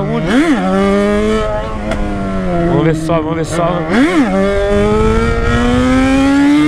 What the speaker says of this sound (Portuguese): O ronco da XJ é o único no Brasil, fi.